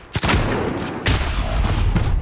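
Shotgun blasts in Call of Duty Modern Warfare multiplayer, two heavy, close booms about a second apart, each followed by a short rumbling tail.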